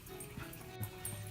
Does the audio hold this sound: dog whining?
yes